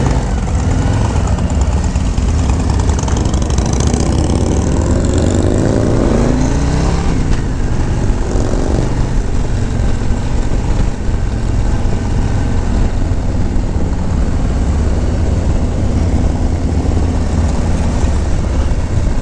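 Harley-Davidson Road Glide Special motorcycle cruising on a group ride, a loud continuous engine drone with wind rush throughout and slight shifts in pitch as it accelerates.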